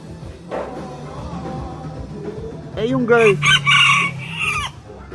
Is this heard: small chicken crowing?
yes